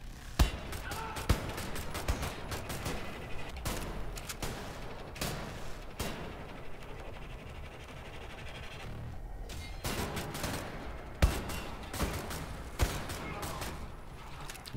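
Rapid video-game gunfire while shooting Nazi enemies, a dense steady barrage of loud sharp shots with brief lulls, continuous background game noise throughout.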